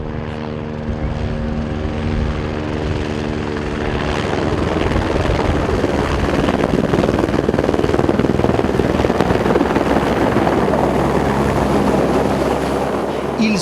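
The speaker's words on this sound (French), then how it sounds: "Les tubes d'acier sont là aussi acheminés par hélicoptère." A helicopter ferrying steel tubes for pylon construction thunders close overhead, its rotor chop and engine roar growing louder and steadier over several seconds, with buffeting wind noise and no voices.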